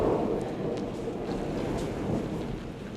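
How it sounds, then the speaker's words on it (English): A stage sound effect of heavy rain with thunder plays during a theater production of Pride and Prejudice. A low rolling rumble sits under a continuous rain hiss, fairly loud and steady, with no speech. "Jane had not been gone long when it rained torrents"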